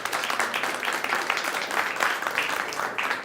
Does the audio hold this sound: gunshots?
no